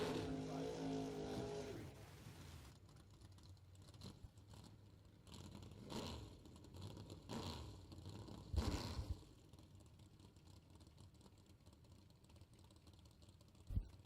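Camaro drag car at a bracket race, engine revving in short bursts and roaring off the line, followed by fading rumbles and a quieter track ambience.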